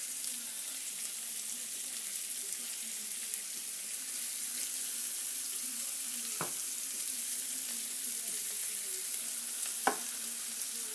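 Broccoli and onions fry in a pan with a steady, close hiss of sizzling oil throughout, broken by two brief utensil knocks.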